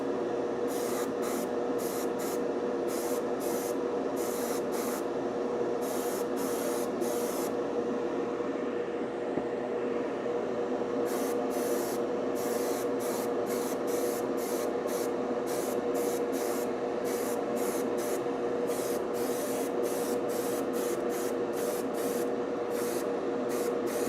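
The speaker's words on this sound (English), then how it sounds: "I just sprayed the first dot of paint onto here" Primer is sprayed onto a Wonder Woman Kingdom Come figure in repeated short hissing bursts, separated by pauses, over a steady mechanical hum.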